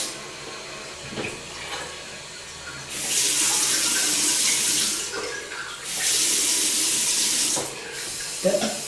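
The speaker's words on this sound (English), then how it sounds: "let's turn on the water." Water gushes from a bathroom vanity faucet in two long, loud bursts, with quieter handling noises and brief pauses between them.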